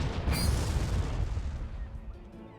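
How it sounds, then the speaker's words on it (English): Unit shooting attack in the strategy game Warlock 2: a sharp burst at the start followed by a rumbling, decaying boom, moderately loud and alone. "you should be able to shoot here"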